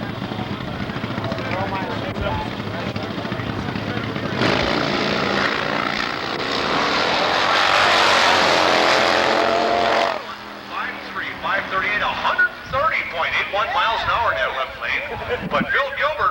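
Drag-racing motorcycles roar down the strip, a loud sustained engine blast that swells through the middle and then fades, with an announcer talking over the noise.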